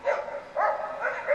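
Dogs bark and whine in a scene from the horror film Cursed, several close, loud yelps and howling cries rising and falling across the moment with no talk over them.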